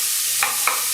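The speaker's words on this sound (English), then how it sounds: "So it's sizzling pretty good there now" Vegetables sizzle in a soup pot for tomato soup, a loud steady frying hiss with two soft stirring scrapes of the pan.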